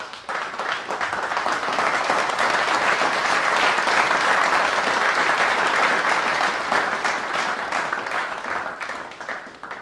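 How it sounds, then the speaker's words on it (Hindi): A crowd at the Bihar Ki Baat stage event bursts into loud, sustained applause for CPI-ML Liberation general secretary Dipankar Bhattacharya, dense clapping holding strong for about ten seconds before easing slightly. "जोरदार तालियों के साथ स्वागत कीजिए बिहार की बात के मंच पर श्री दीपांकर भट्टाचार्य जी"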